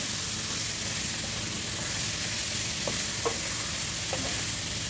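Chicken breast adobo with pineapple and fresh mushrooms being stirred in a pan, a steady sizzle with a few soft utensil scrapes and taps, close and continuous, with no talking.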